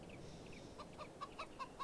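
A rooster in the farming video game Farming Simulator 22, a faint series of short, quickly repeated clucking calls that quicken toward the end, with no talk.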